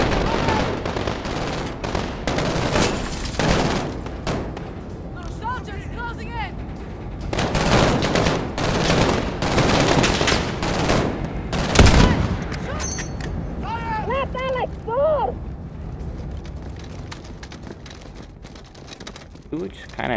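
Rapid machine gun bursts in a Call of Duty campaign firefight, loud sustained rattling volleys broken by short pauses, with voices shouting over the gunfire.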